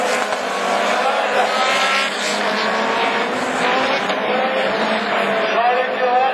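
Rallycross cars launching together at the start of a Division 3 race in the French championship at Lavaré, a loud, dense roar of engines sustained throughout with a commentator's voice faintly underneath.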